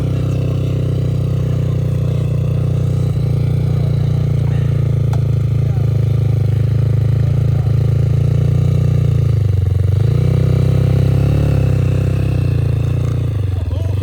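An enduro motorcycle on ordinary enduro tyres, out in a village, holds a loud, steady engine drone for the whole stretch, with small swells as the throttle is worked and people talking over it.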